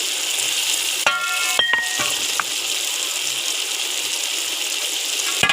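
Tomatoes sizzling and frying in a pan for Chinese rice, a steady close hiss with a few clinks of a spoon against the pan, no talking.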